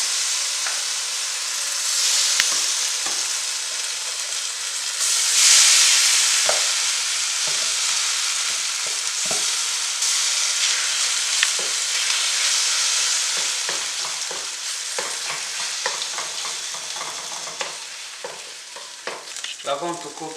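Meat frying in a tablespoon of oil in a pan, a loud continuous sizzle and hiss with scattered crackles and occasional scrapes of stirring, rising briefly and fading slightly toward the end.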